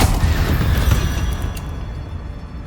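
A Bombarda spell going off in Hogwarts Legacy, a loud, close booming blast with rumbling debris that slowly fades over a couple of seconds.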